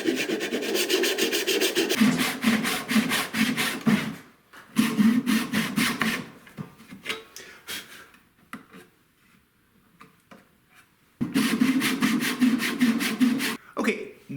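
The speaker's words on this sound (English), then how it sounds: "So let me get a tenon saw and see if I can cut this tenon." A tenon saw cuts a wooden tenon held in a plastic Meyer vise, giving rhythmic rasping back-and-forth strokes, close and loud, with a pause midway before the sawing resumes.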